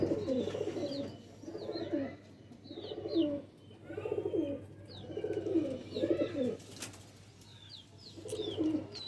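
Pigeons coo in a steady series of soft, low, throaty phrases repeating roughly every second, fairly close, with faint chirps and light bird sounds in the background.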